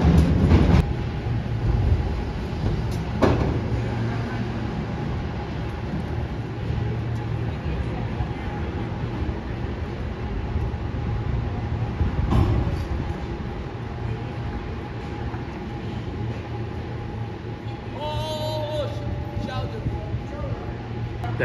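Powell & Mason cable car rolling along, a continuous low rumble with occasional clanks and a bright ringing near the end, with people talking over it.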